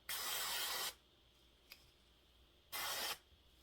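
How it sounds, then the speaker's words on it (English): Light brown root touch-up hair spray hisses out in two short, close bursts, the first about a second long and the second briefer, with quiet pauses between them. "just get yourself some root touch-up spray"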